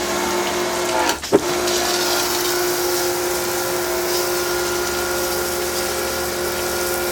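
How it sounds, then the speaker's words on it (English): A pressure washer sprays steadily as it cleans a Puch Maxi moped gas tank. The hiss is loud and continuous under a constant pump drone, broken by one brief knock near the start. "Now we got the pressure washer."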